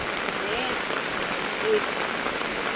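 Steady heavy rain patters on surfaces at an outdoor market, a dense even hiss that holds throughout, with faint voices in the background.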